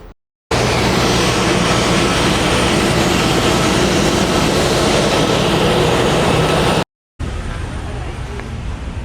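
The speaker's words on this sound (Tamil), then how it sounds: "இது வந்து 2+2 கான்ஃபிகரேஷன் இருக்க ஃப்ளைட்டு. இந்த முன்னாடி 2 ப்ரொப்பல்லர் இருக்கும்" A twin-propeller passenger plane in a 2+2 seat layout roars loudly from inside the cabin with a steady broadband drone and a faint hum; the noise cuts out briefly, then resumes somewhat quieter.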